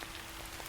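Rain falling, a soft, dense, steady patter of many drops on surfaces, even and continuous through the short stretch with no voices.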